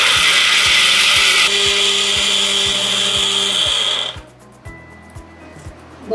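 A kitchen mixer grinder whirs loudly, blending raw mango and mint with a little water, steady high-pitched motor drone with rhythmic knocking that cuts off abruptly partway, leaving quieter thumps and hum.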